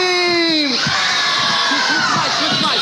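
A large crowd at an old-school hip-hop show screams loudly in a continuous, dense roar that swells after a brief shouted voice at the start.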